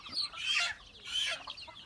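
A chicken clucks and squawks in two loud, close bursts as it is grabbed by the legs, being caught to make straw-baked chicken.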